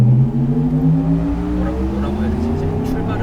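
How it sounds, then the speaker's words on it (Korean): A 2021 Porsche Taycan 4S electric car with two-speed transmission pulling away, its synthetic drive sound a smooth rising whir with climbing tones, loud and close from inside the cabin, without any exhaust note. "출발할 때의 배기음"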